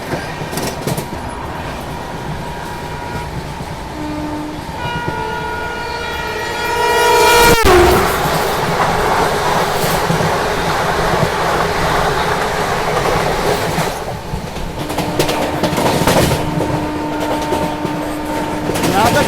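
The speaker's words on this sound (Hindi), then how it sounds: "ये सामने से आ रही है लीलन एक्सप्रेस।" Leelan Express rushing past from the opposite direction alongside a moving Marudhar Express, loud rolling clatter with horn blasts near the start and again later, voices faintly under the din.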